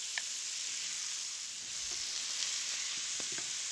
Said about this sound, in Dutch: En dan alles even droog bakken,